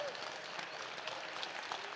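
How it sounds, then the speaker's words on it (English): Steady applause from an audience at a live gathering, a dense even wash of clapping with no single claps standing out, moderately loud and continuous for the whole stretch. "Let's give them a loud round of applause."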